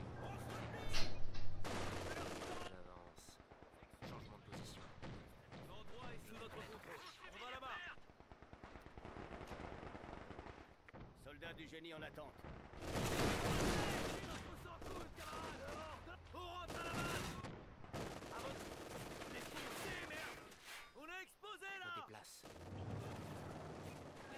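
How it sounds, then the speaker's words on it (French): Enemy infantry gunfire and explosions in the Company of Heroes 2 strategy game, with repeated rifle and machine-gun bursts and heavy booms over a long, dense battle, mixed with game voice lines and chatter. "L'infanterie ennemie me tire dessus."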